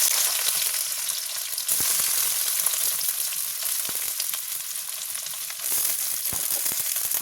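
Chopped taruli and potato sizzle steadily in hot mustard oil, a loud, close, continuous frying hiss with occasional stirring clatter and no talk.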